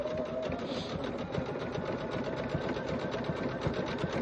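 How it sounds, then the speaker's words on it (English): Sewing machine stitching a coiled jelly roll fabric basket, a steady rapid mechanical whir and clatter, close and continuous throughout, with no speech. "Holding this against the machine, holding my pinky against the presser foot."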